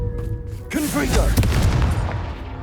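A Confringo fire spell bursts in Hogwarts Legacy, a loud booming blast that erupts about two-thirds of a second in and rumbles on beneath voice-like calls and the game's background hum.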